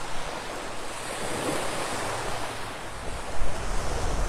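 Sea waves wash onto a fine sandy beach on Corfu. The surf is a continuous, broad wash that swells near the end, with some wind noise against the microphone.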